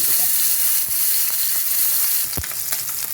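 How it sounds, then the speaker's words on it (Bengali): Fish fries in hot oil with a loud, continuous close-up sizzle and crackle, plus one dull knock partway through. "আমি মাছগুলো ভেজে নেব।"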